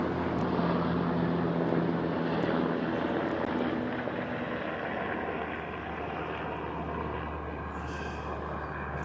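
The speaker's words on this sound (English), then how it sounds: "That fine noise right there is a hella chopper." Helicopter passing overhead, a broad steady rotor and engine roar that fills the scene continuously and eases slightly toward the end, with no talk over it.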